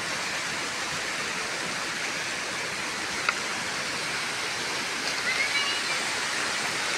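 Sabsaban Falls pours in a steady, even roar of falling water, a dense continuous wash heard close and alone, with only a faint brief click partway through.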